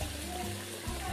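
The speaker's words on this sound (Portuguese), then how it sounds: "Agora eu vou pôr um pouco de água, um tiquito," A small splash of water poured into a hot pan with cooking beef steak, a brief hiss and trickle under the sizzle of frying, close by.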